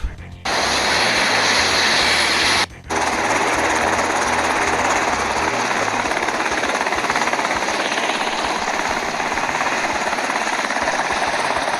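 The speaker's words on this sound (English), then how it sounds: "then the helicopter starts up" A helicopter starting up: a loud, continuous mechanical engine roar with rapid rhythmic rotor chopping runs steadily after a brief pause near the start, no voices.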